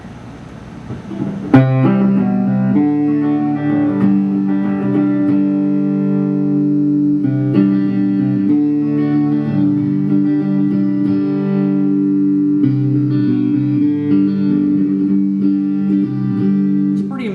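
A mellow Spitfire electric guitar strums chords with a dark, rounded tone, the tone control turned down so it sounds soft and almost acoustic, played alone.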